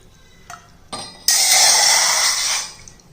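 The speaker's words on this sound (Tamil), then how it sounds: "இந்த கப்பில் நம்ம 1 கப்பு தண்ணி ஊற்றிக்கிடுவோம்." A couple of light clinks, then a steady splashing stream of water poured into a cup for about a second and a half before tapering off.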